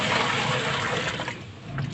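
A bucket of water poured into a washing machine, a loud continuous gushing rush of water that splashes steadily for the whole stretch, close and alone.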